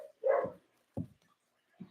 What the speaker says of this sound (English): They bark at each other.